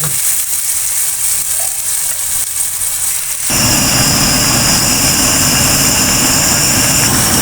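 Spices fry for a white chickpea curry. A quiet stretch gives way to a sudden loud, sustained sizzle that continues vigorously and evenly to the end.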